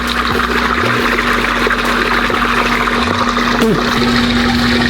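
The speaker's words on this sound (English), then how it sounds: "See how the water's pouring in there now?" Water pours steadily into a plastic fish bag while a newly delivered fish is acclimated, giving a continuous loud gush with a faint hum beneath and no pauses.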